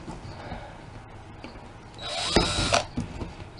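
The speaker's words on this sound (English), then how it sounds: "So we're gonna drill through both containers on kinda high on it." A power drill whirs briefly, boring air holes into a plastic container with a rising grind, preceded by quiet handling noises.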